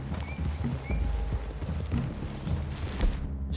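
Hooves clip-clopping from horses ridden in Red Dead Redemption 2, a close, steady walking beat with an occasional faint whinny and soft background score.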